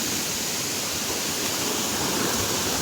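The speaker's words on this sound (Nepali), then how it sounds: "यता अगाडि यस्तो दामी झरना छ है" Ghorla waterfall roars with a dense, constant rush of falling water, loud and close, with no voices over it.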